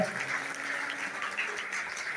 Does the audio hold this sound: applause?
yes